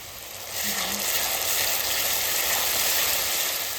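Onions frying in a pan while a Bengali fish curry is prepared; a steady, close sizzle rises after half a second and continues evenly to the end.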